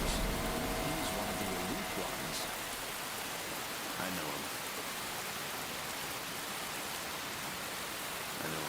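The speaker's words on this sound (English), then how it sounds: "I can't hear you over the rain." Steady rain in the video game Vampire Rain hisses as a dense, even wash of falling drops, fairly quiet and unbroken, with a faint voice briefly over it early on.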